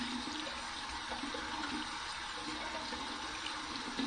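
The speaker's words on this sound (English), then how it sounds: "Going to run this under some cold water and see what kind of feedback we get." Cold water runs from a tap over an alum block in a steady, continuous splashing stream, moderately loud and close, with no talking.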